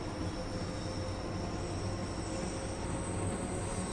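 A passenger train in Train Sim World 2 on the Cathcart Circle Line: a steady, loud rolling rumble with faint high wheel squeal on top, continuous throughout with no talking.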